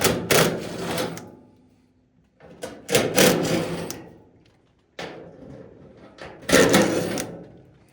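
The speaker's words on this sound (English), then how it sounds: "you're just gonna go all the way around and remove all of the 1/4-inch screws." A power driver backs quarter-inch screws out of the back panel of a Maytag dryer, giving several separate whirring bursts, each about a second long, with quiet pauses between them, close and alone.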